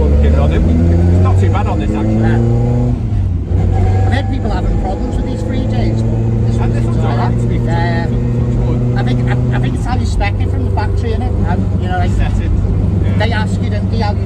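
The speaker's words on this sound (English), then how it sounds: "Sounds like a proper WRC rally car, doesn't it?" The 2.0 BDG rally engine in a Ford Escort MK2 1600 Sport drones loudly and close, its pitch rising and falling through several gear changes, while voices talk over it.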